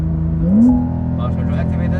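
Porsche 992 Carrera 4S engine revved with the brakes held in launch control: a steady idle swells into a quick rising rev that settles into a held, elevated drone, with a person talking over it.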